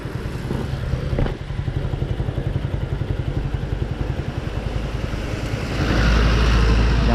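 A motorcycle engine warming up before a ride to a market in Bekasi, idling with a steady low rumble and a rapid, regular pulse. Wind buffets the microphone throughout, and the noise swells louder near the end.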